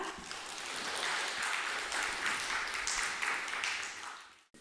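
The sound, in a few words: audience applause welcoming a professor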